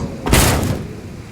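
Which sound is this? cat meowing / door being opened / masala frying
door being opened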